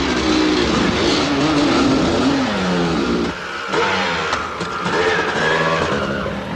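Enduro motorcycles leaving the start line at the 1980 International Six Days Trial in Brioude, France, their engines revving loudly and steadily throughout, close by and continuous, with a short dip in the middle before rising again.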